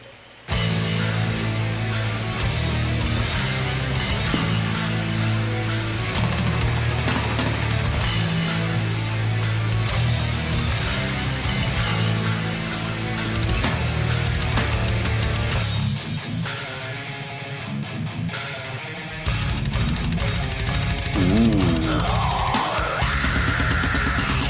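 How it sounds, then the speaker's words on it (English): Loud, dense black metal on Napalm Records, with relentless blast-beat drumming driving a full wall of guitars, dipping briefly near the end before surging back. "That blast beat"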